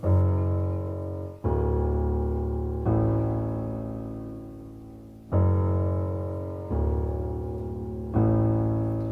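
Beginner piano chord pattern alternating between two chords, six sustained chords struck at a slow steady pace, each ringing and decaying before the next, played alone with no voices.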